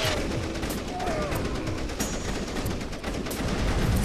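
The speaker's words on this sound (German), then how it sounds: "Ich schieße einfach immer mit alles, was ich habe." Every weapon in Beach Defender TD VR firing at once, a continuous, dense barrage of overlapping gunshots and blasts that stays loud and unbroken throughout.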